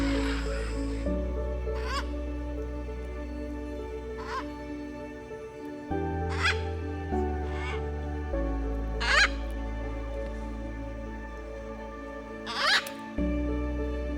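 Macaws at an Amazon rainforest clay lick let out harsh, raspy squawks, about half a dozen separate calls spaced a couple of seconds apart, sounding over steady background music.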